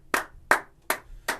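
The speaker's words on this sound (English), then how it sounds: "Another round of applause for the cycle of fifths." Hands clapping four times at an even, slow rhythm, each clap sharp and close with brief quiet between.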